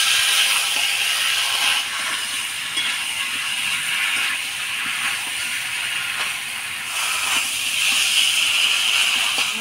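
Lemon-marinated chicken pieces are stirred with spices in a hot pan for a thin home-style curry, giving a steady loud sizzle and hiss with faint scraping and shifting underneath.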